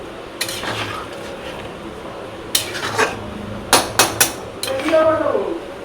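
Metal lid set over a pot of chicken kosha and basanti pulao on a gas stove, giving several sharp metallic clanks and clinks, a few single hits and a quick cluster near the end, close and moderately loud over background voices.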